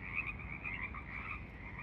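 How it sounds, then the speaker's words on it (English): Frogs croak at a lake, heard from a dock, in a dense continuous chorus of overlapping calls that stays fairly loud and steady, with no talking. "Listening to the frogs on the dock of the lake."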